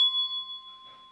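A C bell struck once during a children's rhythm and pitch music lesson at home, a clear sustained ringing tone that fades slowly, alone without talk.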